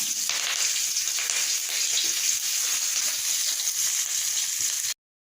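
Mustard seeds, green chili and raw onion fry in a very small amount of oil, making a steady, close hiss of sizzling that holds evenly for several seconds and then cuts off.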